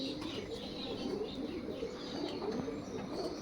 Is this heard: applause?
no